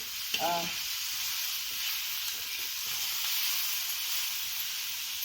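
Chopped onion frying in a pan for a rustic onion chutney, a soft steady sizzle and hiss heard alone and fairly faint, with a brief clink near the start.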